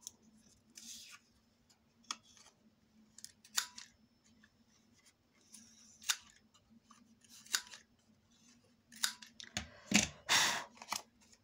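Scissors cutting paper into a rounded shape for a handmade scrapbook album, a series of close, crisp snips and rustles at an uneven pace, growing louder and busier toward the end.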